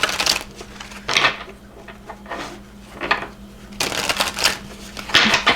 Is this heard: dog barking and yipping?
no